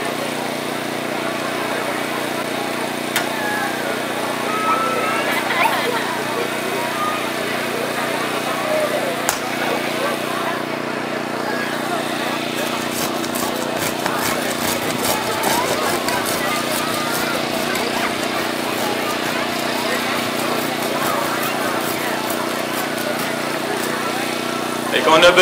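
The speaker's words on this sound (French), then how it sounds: "à l'aide d'une scie spéciale aussi, vont pouvoir procéder à la coupe du pare-brise" Firefighters cut through a car's front windshield with a special saw during an extrication drill, a steady grinding, rasping drone that runs continuously and fairly loud with clattering bits mixed in.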